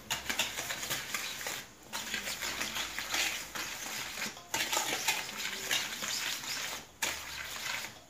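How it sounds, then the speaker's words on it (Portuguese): Sugar and bread yeast stirred together in a bowl for sweet bread, giving a steady, soft scraping and clinking of utensil against the bowl that pauses briefly a few times, close and quiet, with no talking. "Agora aqui eu vou misturar."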